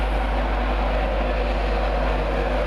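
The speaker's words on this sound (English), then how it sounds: "Here's our train, 21:10 service. Will take us to Durham." A train pulls into a station for the 21:10 service to Durham, a steady loud rumble with a deep low-frequency drone and broad noise, continuous and unchanging throughout.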